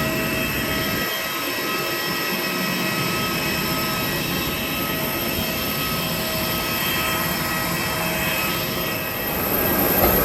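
A loud, steady roar of Airbus A320 jet engines at Bangalore airport with a constant high whine, continuous throughout and swelling slightly near the end.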